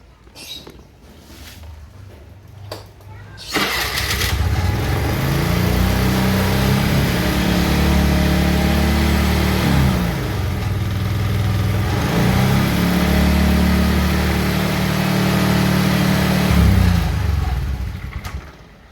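A Honda Vario carbureted motorcycle engine with an uneven throttle, starting up and then revving in loud, close, surging waves that rise and fall unevenly, with no talking.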